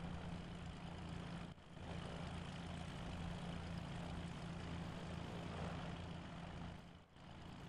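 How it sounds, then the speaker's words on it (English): An aircraft in the DayZ video game idles after landing, its engine a loud, steady propeller drone with a constant low hum that dips briefly twice. "Turn the engine off."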